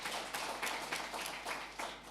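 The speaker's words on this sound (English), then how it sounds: "Give them a round of applause." An audience at a regional state address claps in rhythmic, evenly spaced bursts, fairly quiet and somewhat distant.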